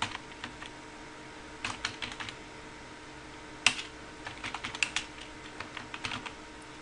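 Fingers type on a computer keyboard while entering Java code, with scattered bursts of quick key clicks separated by pauses and one sharper, louder key strike near the middle.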